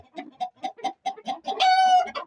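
Indian gurk chickens (turkeys) in a coop cluck in a steady rhythmic series of short calls, ending in a longer, drawn-out call, close and clear.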